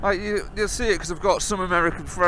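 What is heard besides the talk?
No everyday noises stand out.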